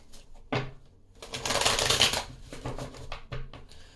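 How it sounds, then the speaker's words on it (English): Tarot cards being shuffled by hand during a reading, a dry papery riffling that comes in short bursts and one longer stretch of rapid flicking, fairly close and alone. "Let's do one more shuffle here."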